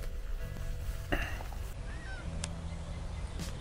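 Several ducks call and honk in short, scattered bursts over steady outdoor rumble, moderately distant, at a lake on the Opal Coast of the English Channel.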